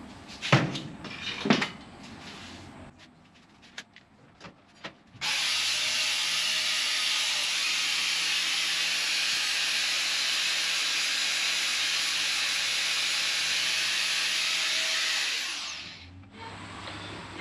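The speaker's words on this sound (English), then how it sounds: "I'll just use the grinder that electrocuted me just to clean it up" An angle grinder cleans up welded metal on a car fabrication job. A few knocks and handling sounds come first, then a loud, steady, hissing grind runs unbroken for about ten seconds before it stops and winds down.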